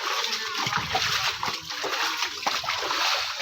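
Water splashes and sloshes through a flooded residential lane after heavy rain in Muzaffarnagar, a close, continuous churning spatter with faint voices in the background.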